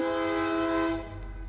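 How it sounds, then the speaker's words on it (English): A loud, sustained train horn blares close by as a train passes, its steady chord holding for about a second before easing off under a low rumble. "Damn train. Every 35 minutes, it's so loud."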